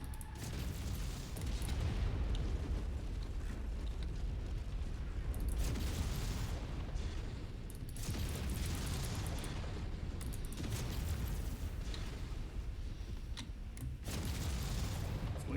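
Rumbling explosion of a destroyed mech in MechWarrior 5 game combat, loud booming roar swelling in repeated waves over a dense battle din, near and sustained.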